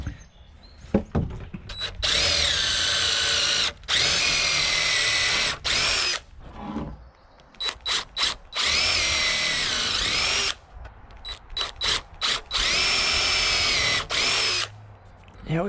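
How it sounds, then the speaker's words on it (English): A power drill pre-drills wooden rafters during a ridge pole and rafter install, whining loudly in repeated bursts of a second or two, separated by short pauses, revving and stopping close by. "Get some pre-drilling done, guys, while we're right here."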